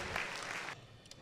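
An audience at an agro input welfare association convention claps to welcome the association president, producing a short burst of dense clapping that drops off abruptly and leaves a few faint scattered claps.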